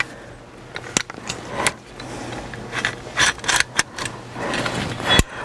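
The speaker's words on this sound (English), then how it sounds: "Unscrew these three screws" Screws are worked loose from a seat belt mount inside a 2012 Subaru Forester, heard close up as scattered metallic clicks, ratcheting ticks and scrapes with brief pauses between bursts.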